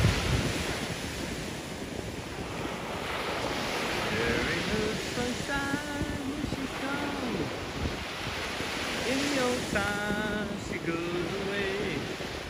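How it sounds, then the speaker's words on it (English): Strong seaside wind blusters constantly into the microphone with surf rumbling along beneath it, while a few short voices are heard faintly in the background. "The wind is coming from that way."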